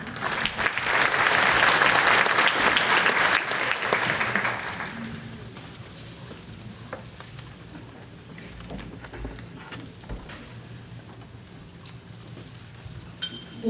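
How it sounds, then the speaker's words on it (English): A breakfast audience at a children's event applauds loudly for about four seconds, then the clapping thins out and fades into quieter room noise. "Let's give them another round of applause."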